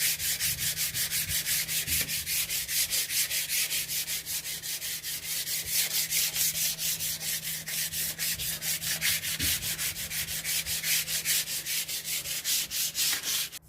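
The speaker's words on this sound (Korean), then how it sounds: "이 천사포의 뒷면으로 표면을 문질러서 매끄럽게 만들어 줄게요." Rubbing the painted surface of a Mediterranean-style tile table smooth with the back of a sanding pad, producing fast, rhythmic back-and-forth scraping strokes. The sound is close and steady throughout, with no voices.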